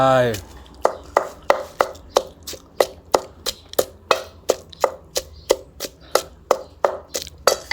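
A knife chops ingredients for Thai chicken soup on a cutting board in a home kitchen, giving about twenty sharp, close, loud strikes in a fast, even rhythm.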